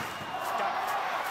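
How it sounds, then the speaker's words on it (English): A stadium crowd at a 2011 NRL rugby league match between Wests Tigers and Canberra Raiders, a broad distant roar of cheering voices swelling briefly and continuously across the short moment. "Crowd has found their voice."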